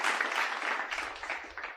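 Canned studio applause dropped into a gaming podcast, a short, bright burst of many hands clapping, fairly loud and heard alone, tapering off after about two seconds.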